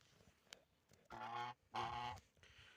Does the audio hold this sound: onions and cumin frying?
no